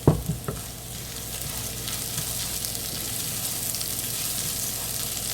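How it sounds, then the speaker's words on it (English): Onion fries in a pan for Spanish rice, a steady close sizzle after a few clattering knocks of the utensil at the start, then an even, unbroken hiss with no voices. "now I'm just stirring in the onion, making sure it's in there well incorporated, and I'm just gonna cook this until the onion is translucent"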